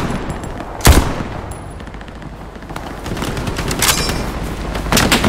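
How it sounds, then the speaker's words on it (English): Machine gun fire in the WWII shooter Hell Let Loose: rapid, loud bursts with heavy cracks near the start, middle and end, over a constant din of distant gunfire. "We have an MG."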